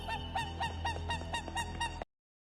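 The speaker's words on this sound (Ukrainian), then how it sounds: "Лебеді не лише красиві, вони дуже голосні." Whooper swans give a series of loud, regular trumpeting honks, about eight calls in two seconds, nearby, then silence.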